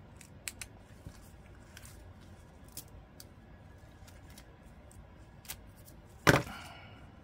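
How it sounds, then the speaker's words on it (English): Scissors snipping through a blue ribbon: a few faint, scattered clicks and then one sharp, close cutting snip near the end, with quiet room background and no speech. "I'm going to cut this blue ribbon out"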